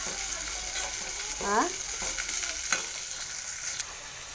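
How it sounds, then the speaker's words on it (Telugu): Dal and onions being stirred in a frying pan for a thotakura (amaranth greens) curry, with a steady sizzle underneath and soft scraping strokes of a spoon, close and moderately quiet. "పప్పు వేసి ఉల్లిపాయలు వేసిన ఇదండి ఇట్లా కలుపుకోవాలి."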